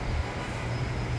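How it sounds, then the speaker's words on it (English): A New York City subway train approaching a station, a steady low rumble of wheels and rail noise with a faint high whine, fairly near and continuous without any talk. "Yes, my train is coming now."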